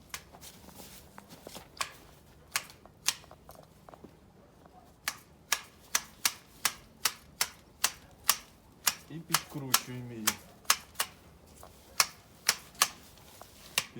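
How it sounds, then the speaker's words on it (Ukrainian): Sharp, crisp snips of hand shears trimming a four-metre Smaragd thuja into a spiral repeat in a steady, irregular rhythm, close by, with a brief rustle of foliage between cuts. "Потім беремо ножицями."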